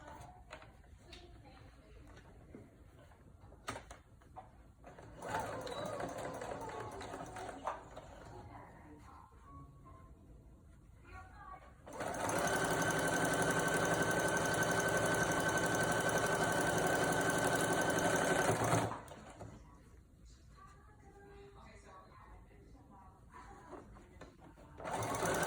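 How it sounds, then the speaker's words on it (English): A sewing machine stitches the curved side of a homemade fabric mask, whirring in a long steady run after shorter bursts and surrounded by quieter handling noises and a person talking. "I put the points together and I sew the curved side."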